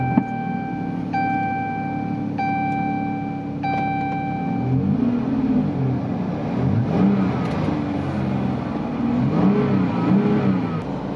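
A car engine idles and then revs repeatedly after a broken thermostat was replaced, with loud, close rises and falls in pitch. A few steady electronic chimes sound near the start over the engine.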